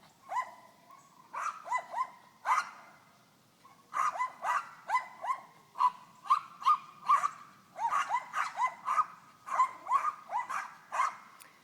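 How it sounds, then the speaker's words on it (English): Dog barking repeatedly outdoors by a lakeside pier, a steady run of sharp, fairly close barks with brief pauses between bursts, mixed with higher yips and whimpering tones. "Here comes my dog."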